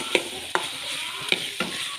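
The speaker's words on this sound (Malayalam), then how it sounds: "എല്ലാം ഇളക്കി മിക്സ് ചെയ്ത്" A spoon scrapes and stirs crab masala with onion and tomato in a pan, a few distinct scraping knocks spaced about half a second apart over a soft steady sizzle, with no voices.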